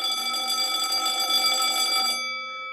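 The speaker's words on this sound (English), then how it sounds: "the donger is just vibrating against one of the bells" A vintage electric alarm bell rings with a continuous metallic buzz as its clapper vibrates against one of the bells, loud and close, then cuts off and leaves a short ringing decay.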